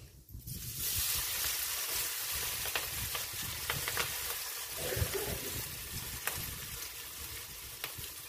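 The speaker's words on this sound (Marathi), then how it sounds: "हिरवी मिरची आणि लसूण चांगला परतून घेऊ आपण" Green chili and garlic sizzle steadily in oil in a wok while being stirred, with occasional scraping clicks over the continuous frying hiss.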